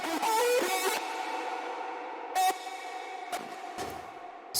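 A processed musical sound with a long reverb tail ducked by a peak controller, dropping back sharply after each loud hit, several bursts in an uneven rhythm.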